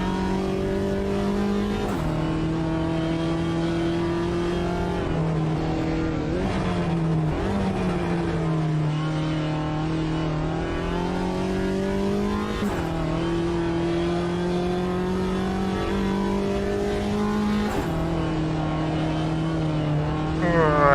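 Race car engine at Bathurst in the Automobilista 2 sim, droning loud and steady for the whole stretch, with pitch dipping and climbing through gear changes and a few sharp shifts.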